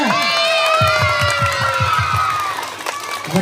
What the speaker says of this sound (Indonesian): ya beri tepuk tangan yang meriah kepada para juara